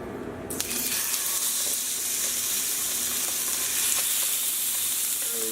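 Bone-in, skin-on chicken frying skin side down in hot olive oil in a pan over a medium-high flame, giving a steady, loud, close sizzle that runs unbroken throughout with no talking.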